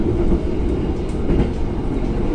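An Indonesian Banyubiru economy-class passenger train rolls steadily along the rails between Semarang and Solo, a continuous loud low rumble with faint rhythmic clatter from the wheels throughout.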